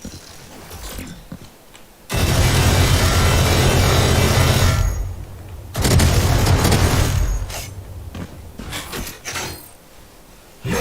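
Flashbang grenades go off in a deathmatch video game, two long loud roaring blasts a few seconds apart, with rattling gunfire and shorter bursts around them.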